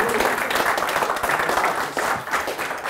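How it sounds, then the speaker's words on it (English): Steady audience applause at a conference case-study session, many hands clapping continuously and fairly close throughout. "So a big applause for yourself."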